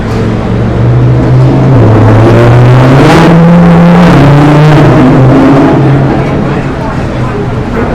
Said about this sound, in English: Someone's riding their Lamborghini down Fifth Avenue